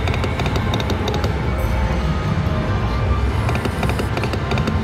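The Golden Wins slot machine plays its free-spins firework effects in a casino, a dense run of crackling bursts and pops that keeps going loud and continuous over a low rumble.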